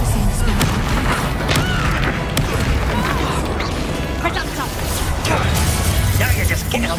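Booming blasts of the Confringo explosive spell in Hogwarts Legacy combat, repeated crashes and pops amid a busy fight, with voices speaking over the action.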